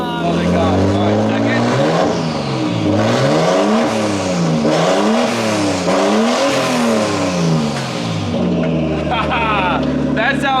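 A rough, long-dormant Nissan R32 Skyline engine pulls away in first gear, loud and close, its revs rising and falling in repeated swells with a busy mechanical drone throughout, and voices talking over it.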